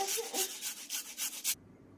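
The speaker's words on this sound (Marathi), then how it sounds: "आता हे आलं खिसायच्या खिसणीने आपल्याला छानपैकी खिसून घ्यायचे आहे" Fresh ginger rubbed over a hand grater in quick repeated strokes, about nine close, soft rasping scrapes in a steady rhythm before stopping abruptly.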